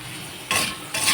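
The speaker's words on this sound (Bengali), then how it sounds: "এখন কিন্তু ভালো করে নাড়াচাড়া করে নেব।" Food is stirred in a frying pan with mustard paste, turmeric and bay leaf, a soft sizzle broken by two louder scraping swirls of the spatula, close by and without talk.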